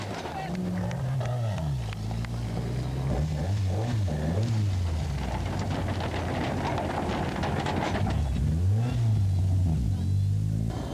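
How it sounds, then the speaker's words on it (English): A Porsche rally car pulls away from a starting ramp among crowds, its engine revving hard and rising in pitch through several surges, loud and close with wind buffeting the microphone and faint voices in the background. "The first car to leave the starting ramp was Al-Hajri's Porsche, heading off through the crowds"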